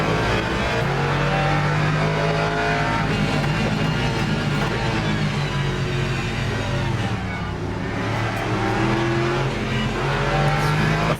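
Ford and McLaren race cars in the Le Mans Ultimate sim racing game, on a rainy track, roar continuously with sustained engine drone and shifting revs, loud and close, with no talk over it.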